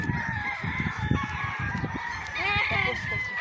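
A crowd of chickens clucking close by, with a rooster crowing midway; faint human voices mingle in the background.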